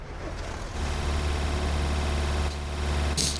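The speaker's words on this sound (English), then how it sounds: "Can you hear a revving engine?" A truck engine in the TruckersMP driving game runs loud and steady with a low rumble, rising in level partway through, then ends with a short hiss near the end.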